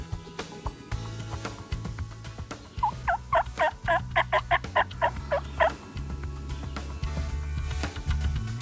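A group of six wild turkey toms gobbling in a Georgia food plot, a loud burst of rapid rattling gobbles in the middle with quieter ambient background before and after.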